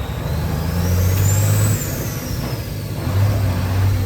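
Kenworth W900 truck engine fitted with new breathers, revving hard in two loud bursts of deep droning roar separated by a brief dip, with a high whistling turbo-like sweep rising and falling during the first burst.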